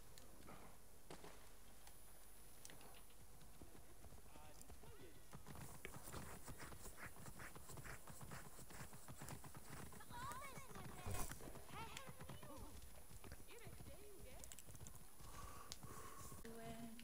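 Hooves clip-clop in a steady walking rhythm, fairly close, joined by a horse's whinny, under a constant background hum with occasional talk, in the video game Assassin's Creed Origins.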